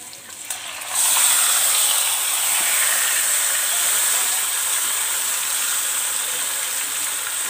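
Beef drops into onions frying in mustard oil and sets off a sudden loud hiss that jumps up after a quiet second and carries on as a steady, bright sizzle with no talking.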